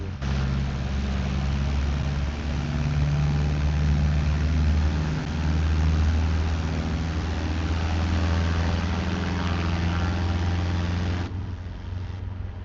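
A propeller plane drones steadily nearby in a VR flight simulator, a continuous low engine hum with a faint rising whine before it cuts off near the end.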